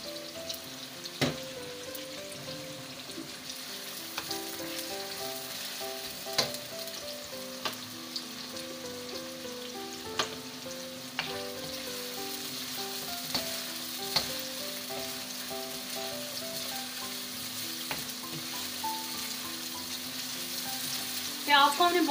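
Onions fry and sizzle steadily in a pan for a Bar.B.Q-style aloo qeema, with a constant hiss broken by regular clinks and scrapes of a spoon stirring, close and fairly quiet, with no talking.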